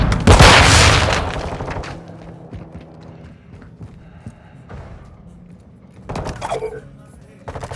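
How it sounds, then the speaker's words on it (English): Grenade blast in Call of Duty: Modern Warfare II team deathmatch, a loud broadband boom at the start that decays into rumbling battlefield noise, with further impacts and thuds later. "Throwing grenade!"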